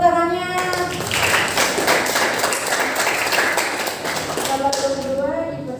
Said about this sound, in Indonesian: Beri tepuk tangannya.